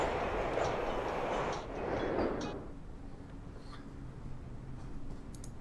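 A train rumbles in the video game Nancy Drew: The Shadow at Water's Edge, loud and steady at first, then easing into a quieter hum.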